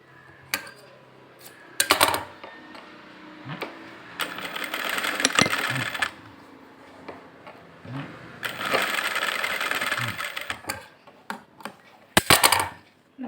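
Sewing machine stitching blouse fabric pieces together, running in several bursts of whirring stitches a few seconds long, separated by brief pauses and sharp clicks of handling.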